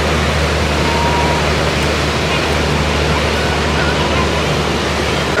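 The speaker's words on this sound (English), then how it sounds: "The water done washed up on us." Ocean waves wash up onto a beach in a loud, continuous roar of surf with no break in the noise.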